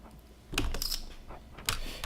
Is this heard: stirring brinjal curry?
no